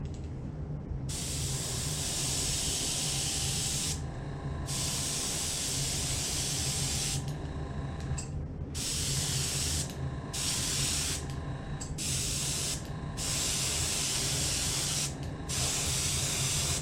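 An airbrush sprays paint onto a fishing lure in long steady hissing bursts separated by brief pauses, close and continuous.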